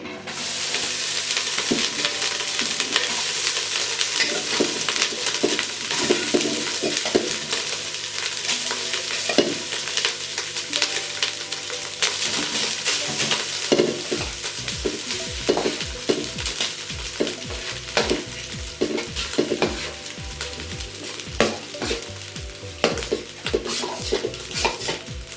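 Rice is layered into a ghee-greased pot over a low flame for Chinese fried rice, a steady soft sizzle broken by repeated scraping, tapping and clinks of a spoon against the pot.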